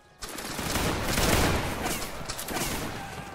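A musket volley fired on command at a Waterloo battle reenactment, a sudden loud crackling burst of many shots that rolls on as a sustained rattling roar for several seconds.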